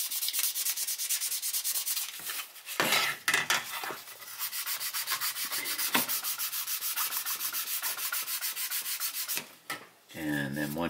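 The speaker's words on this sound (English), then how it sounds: "again using finer and finer sanding grits" Hand sanding of a Battlestar Galactica Viper Mark VII scale model with progressively finer grits: close, rhythmic back-and-forth rasping strokes in steady runs, broken by brief pauses and a soft handling thump near the end.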